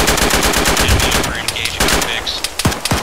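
Rapid automatic gunfire in the military shooter Arma 3, loud and close, a sustained burst followed by a few separate sharp shots near the end.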